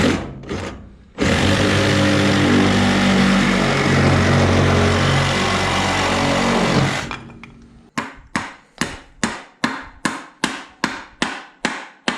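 A power drill drives screws into wood while building a truck bed camping kitchen: one long steady whirring run, then a quick series of about a dozen short sharp bursts, close and loud.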